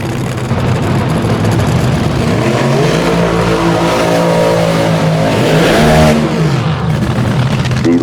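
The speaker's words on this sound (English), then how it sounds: "Tyler Hilton did that burnout." A Top Fuel dragster with a late-model Hemi does a burnout at the March Meet drag races, a loud, harsh, continuous engine roar that climbs in pitch as revs rise high, then falls back.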